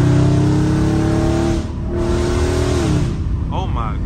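A catless Dodge Scat Pack growls loudly up close, its engine holding a revving drone that drops away and returns. Road noise and wind rush sit beneath it, and a person talks over it near the end.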